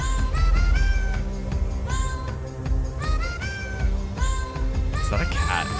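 Cat meowing repeatedly in a rising, whiny pattern over a busy musical background, several meows in close succession, loud and near.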